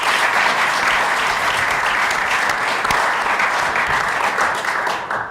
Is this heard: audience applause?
yes